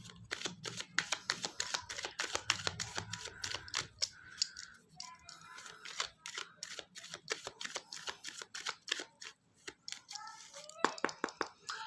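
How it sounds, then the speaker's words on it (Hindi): Tarot cards being shuffled by hand, a run of quick crisp riffling flicks and card slaps, fairly faint and close, with brief pauses and a few soft voice sounds in between. "कार्ड्स को हम अच्छे तरीके से शफल कर लेंगे"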